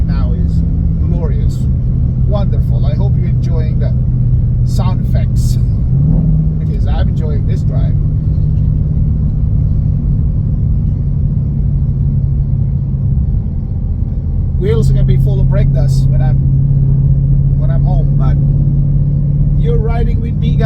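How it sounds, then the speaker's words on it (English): Steady deep exhaust rumble from a Dodge Hellcat heard from the cabin on the road, low droning tone with small pitch steps as it shifts, and someone speaking over it. "Listen to that exhaust. I mean, what other car can make a sound like that, right?"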